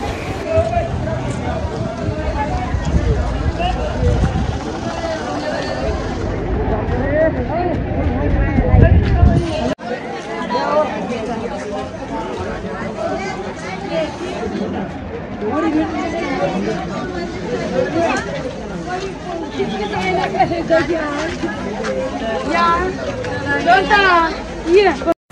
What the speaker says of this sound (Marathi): पण खूप गर्दी आहे इकडे.